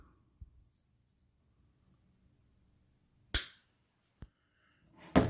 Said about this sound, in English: That way we can cut it as close as possible with our wire cutters.